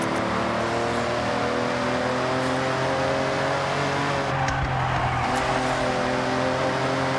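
Steady loud engine drone of a car being raced in Forza Horizon 6, revs holding and shifting in pitch with a slight tire squeal, continuous and close, no talking.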